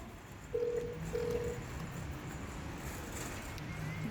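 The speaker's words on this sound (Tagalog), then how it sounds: "Let's dial again." Telephone dialing tones: two short, clear beeps in quick succession over a faint, continuous background hum, followed by steady low noise.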